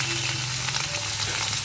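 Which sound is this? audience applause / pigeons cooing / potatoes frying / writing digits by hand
potatoes frying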